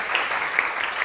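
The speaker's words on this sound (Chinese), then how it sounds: "李贞德老师他也是现任的所长我们掌声欢迎" An audience at a humanities lecture salon claps in a short burst of dense, steady applause to welcome the lecturer, heard alone without speech.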